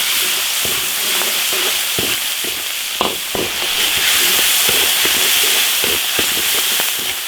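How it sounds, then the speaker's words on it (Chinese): Sichuan pepper, ginger, garlic and pickled chilies stir-fry in hot oil in an iron wok, with a loud continuous sizzle broken by scraping stirs and sharp crackling spits. "花椒炝锅，生姜大蒜泡椒"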